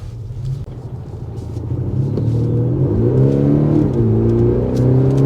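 An Audi SQ5 accelerates hard, its engine rumble building into a loud rising growl as revs climb and shift, heard from inside the car with no talking.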